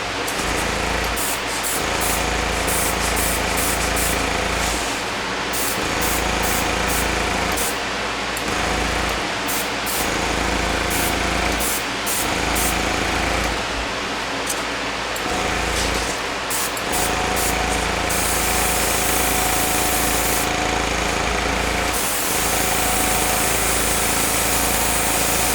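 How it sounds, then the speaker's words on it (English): An airbrush sprays gray paint over white clouds in short repeated bursts, its steady hiss running over a constant low mechanical hum, likely from an air compressor, close and fairly loud throughout. "there was a white cloud and I sprayed gray mostly on top of it"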